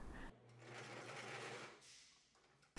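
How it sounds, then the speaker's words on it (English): A sewing machine stitches a folded hem on fabric, whirring steadily at close range for a couple of seconds before stopping, then briefly starting again. "fold the fabric a little less than 1/4 inch, then fold it again and sew along the fold"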